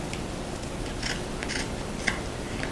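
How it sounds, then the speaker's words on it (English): Scissors snipping away excess material on the inside of a repurposed container lid, a few short crisp cuts spaced irregularly, close by and fairly faint over a low background hiss. "Now I'm going to trim off this excess on the inside."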